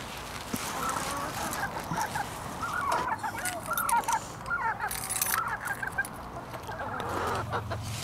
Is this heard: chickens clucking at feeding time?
yes